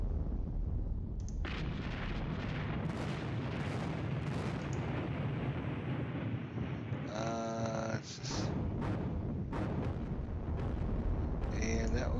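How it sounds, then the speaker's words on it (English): Mortar fire in the wargame Panzer Battles: a steady rumbling barrage of booms and bursts fills the clip, with a voice talking over it. "Mortar."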